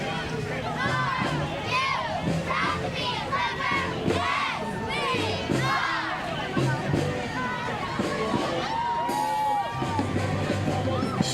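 Community parade crowd in Arnold Mills cheering and shouting as a cheerleading squad and football players march past, with children's shrieks and loud excited babble filling the air continuously close by.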